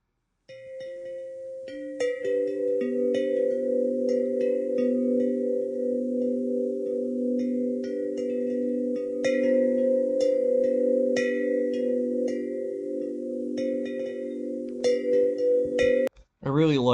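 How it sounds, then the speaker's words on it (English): Gracenote 84-inch Deluxe Himalayan Echo chime: a deep, sustained chord of layered bell tones rings steadily with shimmering overtones for about fifteen seconds, then cuts off abruptly before a brief sweeping tone. "So let's listen to the 84-inch Deluxe Himalayan Echo."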